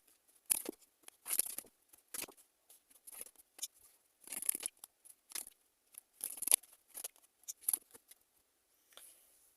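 Tarot cards being shuffled and drawn, giving soft, crisp papery flicks and rustles in irregular bursts, close and quiet with no speech.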